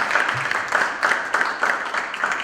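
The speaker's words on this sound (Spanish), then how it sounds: "un aplauso aquí a esta pobre mujer que no tiene un predicamento" Audience applause for the author at a book presentation, a steady wash of clapping from a seated crowd, moderately loud and sustained throughout with gentle surges.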